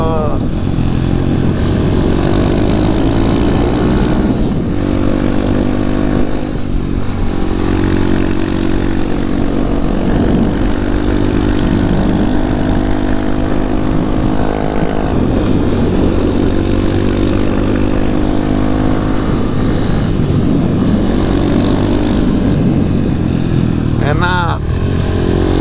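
A motorcycle rides a rural touring road to Ciletuh Geopark, its engine droning loud and steady throughout with wind rush and occasional shifts in pitch.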